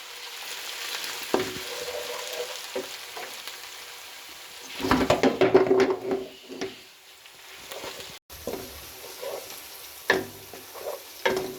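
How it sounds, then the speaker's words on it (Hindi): Ginger garlic paste frying in a pan for beef kofta curry over medium heat, a quiet sizzle with intermittent spatula scrapes and a louder burst of stirring clatter midway, followed by sporadic knocks. "2 से 3 मिनट तक हम इनको भूनेंगे"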